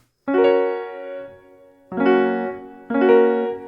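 Three rolled piano chords, the notes spreading quickly from low to high; the first rings out longer, the other two follow closer together.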